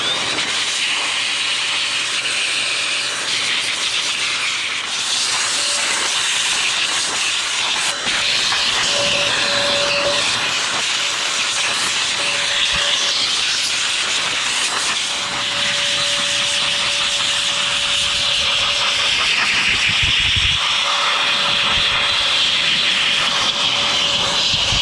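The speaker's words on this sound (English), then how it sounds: "This is a jet blaster. It's a high performance air blaster from" A Cow RC jet blaster, a high-performance air blaster for cleaning RC cars, blows a loud, continuous rushing hiss that holds steady for the whole stretch with slight surges and wavering.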